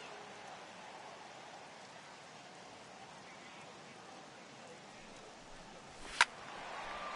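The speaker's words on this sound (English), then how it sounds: "It's coming down a little heavier now." Steady heavy rain falls in a baseball video game, a continuous broad hiss that holds throughout with one sharp crack near the end, under possible faint commentary.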